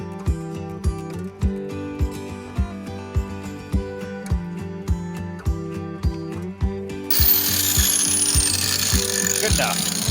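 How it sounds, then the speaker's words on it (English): Metalwork on a Chrysler 300 exhaust pipe: loud rhythmic mechanical clunks repeat, then a harsh, continuous grinding rush with a shifting whine takes over for the last few seconds. "we're gonna give her a little grind here and then tack her up"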